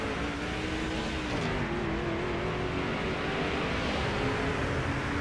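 A NASCAR 06 video game race car engine drones continuously at high revs, its pitch rising slightly as it accelerates, loud and steady with no speech.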